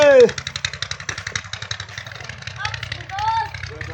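A motorcycle idles with a quick, even putter as it is brought inside in a village setting. The engine sounds close and fairly loud, with brief voices and a whining sweep at the start.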